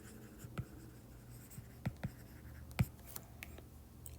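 Pen or marker scratching out an equation for a line during a math lesson, soft, close strokes and taps in irregular bursts against quiet room tone.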